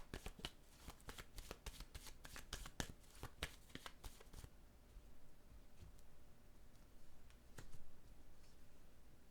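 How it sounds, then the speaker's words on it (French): Tarot-style oracle cards being shuffled during a French-language card reading: a rapid run of crisp riffling clicks for several seconds, then quieter handling and a single card being drawn, all close and with no talking. "je vais piger une autre carte"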